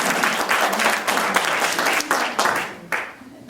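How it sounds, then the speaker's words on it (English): A church-style audience gives warm applause for a performer named Laura, a dense burst of many hands clapping that swells and fades in waves over a few seconds. "let's give Laura one final big thank offering of our hand clapping and praise"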